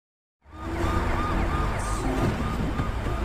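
An ambulance siren in an action story wails in repeated rising-falling sweeps, loud and close over a busy rumble of traffic, beginning abruptly after a brief silence.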